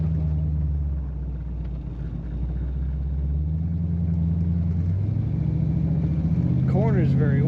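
A 1940 Pontiac two-door sedan street rod with automatic transmission accelerates from inside the cabin, a deep steady engine and exhaust rumble building in pitch toward the end, with a voice speaking over it.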